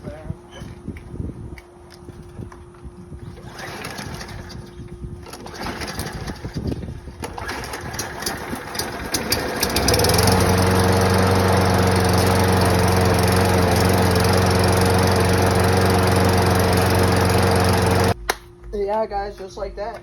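A petrol lawn mower with a primer button is started: pull-cord attempts and rattles lead to the engine catching and running loud and steady for several seconds before it cuts off. Someone speaks briefly.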